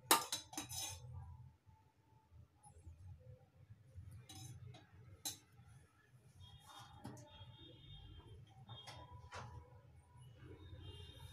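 A pan set down on a stove for a mirchi masala curry, then oil added. A few sharp metallic clanks open the scene, followed by quieter scattered clinks and light handling noises.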